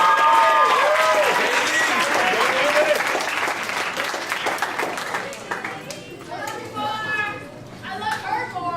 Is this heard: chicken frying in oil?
no